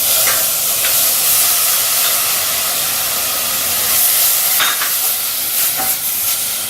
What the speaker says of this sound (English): I just put a little bit of olive oil in the saucepan, and I'm going to pop my garlic in first, then my onion